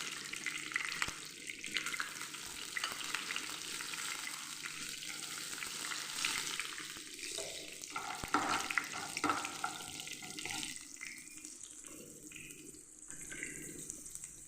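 Mustard seeds frying and being stirred in hot oil for tempering, a steady close sizzle and crackle with scraping stir noises running throughout, no talking.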